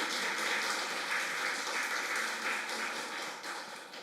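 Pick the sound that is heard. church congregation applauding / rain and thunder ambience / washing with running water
church congregation applauding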